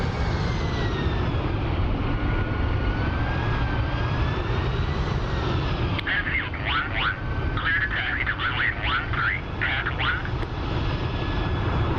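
A Su-57 fighter jet in the DCS flight simulator spools up for takeoff, a loud, continuous engine roar with a rising whine that holds steady throughout, with faint chattery sounds in the middle.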